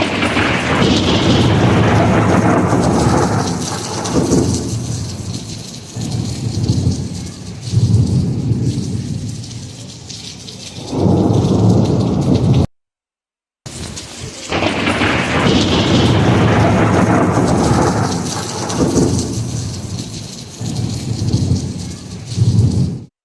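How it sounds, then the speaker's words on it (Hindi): Heavy rain and rolling thunder during a lightning storm in DHA, Karachi, loud and continuous with deep booming rumbles, the downpour hissing steadily throughout with a brief break midway. "बादलों की जो घनगरज थी उसका अंदाजा आपको इस ऑडियो को सुन के होगा।"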